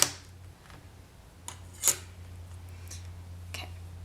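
A polymer clay cane being sliced in half with a blade, giving a few brief, soft cutting clicks against a quiet room hum, with one slightly louder snap near the middle.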